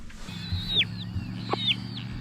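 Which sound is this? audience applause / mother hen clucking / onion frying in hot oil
mother hen clucking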